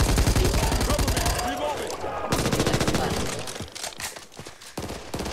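Rapid SMG bursts in the Back 4 Blood zombie shooter, loud and close, with dense rattling volleys that pause briefly and resume, a voice talking over the shooting.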